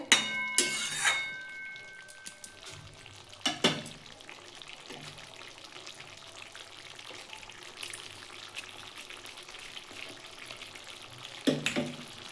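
Paneer and okra curry sizzles softly in a pan, with a few scraping stirs at the start, middle and end over a low continuous frying hiss.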